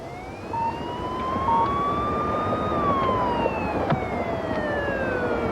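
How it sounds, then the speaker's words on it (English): A police siren wails up and down in long rising and falling sweeps, fairly close, over a low traffic rumble. "You better hit the siren."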